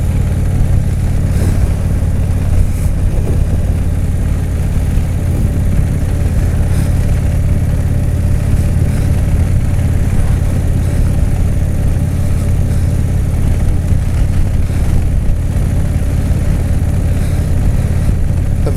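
A motorcycle engine drones steadily while riding, a loud continuous rumble mixed with wind noise and no clear changes in pace for the whole stretch.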